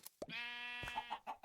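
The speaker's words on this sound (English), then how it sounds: "Sneak up on the sheep." Sheep in a video game bleat in one sustained, wavering call, followed by brief short bleats, clear and close.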